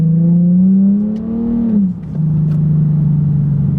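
A G37 with a loud custom exhaust revs up with a rising throaty pitch, drops sharply as the gear shifts, then settles into a steady, loud drone.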